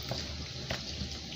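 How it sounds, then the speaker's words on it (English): Cold water poured over editan leaves as they are washed in a basin, a steady close splashing with a few louder surges of running water. "you keep on washing it, pouring cold water into it"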